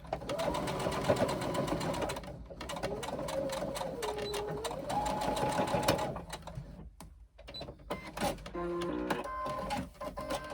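Sewing machine stitching a pocket onto a hobo shoulder bag, bursts of rapid needle chatter that stop and restart several times, close and fairly quiet.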